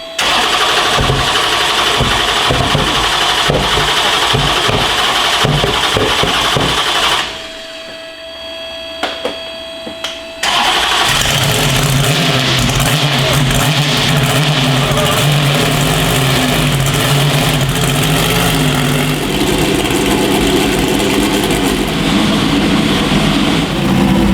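A manual C8 Corvette drift car's engine cranks and fires, settles into a loud, rough idle and blips through sharp revs, with a brief quieter gap before it restarts and keeps running close by.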